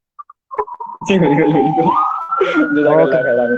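Ambulance siren wailing loud and close in a steady rising-and-holding tone, arriving after a few short clicks and beeps.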